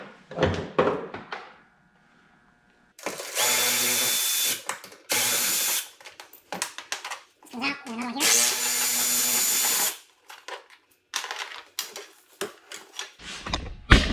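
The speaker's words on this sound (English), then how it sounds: "So I get a fastening tool in there." A power fastening tool works on a Can-Am Defender half-door, giving several loud bursts of whirring drilling separated by pauses, with clunks and handling noises in between.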